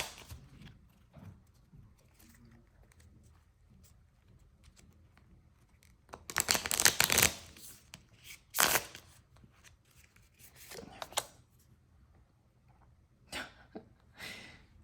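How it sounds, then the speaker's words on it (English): Storymatic writing-prompt cards shuffled and pulled during a tarot-style card reading, with soft bursts of card riffling and flicking that swell into two louder shuffles, then a few quieter snaps and slides, close up with no talk. "let me pull these cards. These are Storymatic cards."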